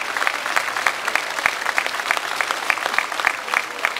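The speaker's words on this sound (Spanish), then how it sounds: "Cipriano Charres Pedraza, quien pide un fuerte aplauso" Audience applause at a municipal event for the 70 y Más senior program in Ixmiquilpan, Hidalgo: a steady, dense patter of many hands clapping at moderate loudness, sustained evenly for about four seconds with no talk.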